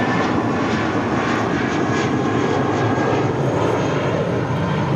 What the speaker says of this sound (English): That's Blue Monday taking off to Reno, Nevada. The A320 with JetBlue Airways, 942.